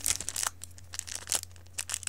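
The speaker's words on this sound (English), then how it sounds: "Get my trusty scissors." Scissors cut open Yu-Gi-Oh Legendary Collection game packaging with a series of close, crisp snips, crinkles and tearing crackles in irregular bursts over a faint low hum.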